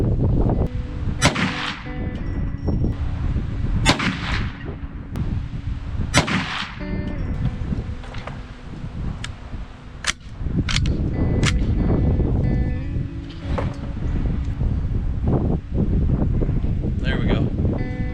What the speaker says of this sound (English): we got a 3-round group in with the 44 mag